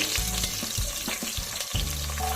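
Whole spices, onion, carrot, beans and potato fry over high heat for a vegetable pulao, giving a loud continuous sizzle with a few stirring scrapes, close up and without speech.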